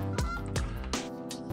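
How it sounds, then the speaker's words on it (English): Several loud, honking calls from ducks close by, arriving in three or four bursts over a low steady background, with no talking. "It's just ducks."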